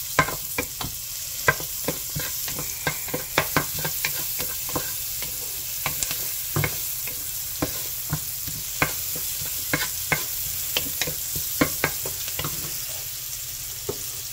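Onions sautéing in a pan for creamy chicken macaroni sopas give a steady close sizzle, with frequent sharp clicks and scrapes from stirring scattered throughout and no talking.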